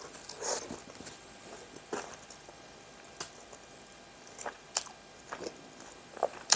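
Someone bites into and chews a fast food burger with pickle, cheese, lettuce and tomato in a mukbang, with soft wet chewing, a few crisp crunches and scattered clicks, close to the microphone and without speech.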